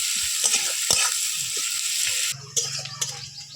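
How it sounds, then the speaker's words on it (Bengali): Chopped onion frying in hot oil in a pan for a village-style rui fish curry, a loud crackling sizzle with scrapes and taps of the stirring spoon, the hiss dropping away partway through before flaring again. "পেঁয়াজ কুচি পেঁয়াজটা হালকা লাল করে ভেজে নেব"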